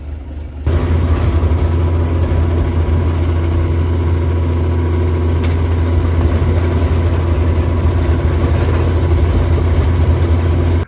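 A bulldozer's heavy diesel engine idles steadily and loudly on a farm, a constant low rumble that holds at the same level throughout.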